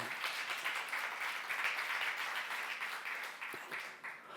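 A church youth congregation claps steadily during a sermon, a soft, even wash of many hands at a distance, continuing without break for several seconds.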